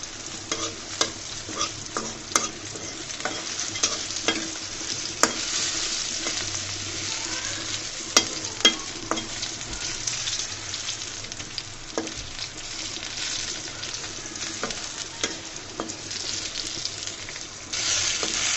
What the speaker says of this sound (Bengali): এই বেগুনটাও আমার ভাজা হয়ে গিয়েছে